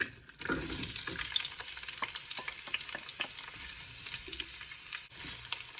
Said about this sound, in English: Now we'll fry these onions until they're deep golden brown.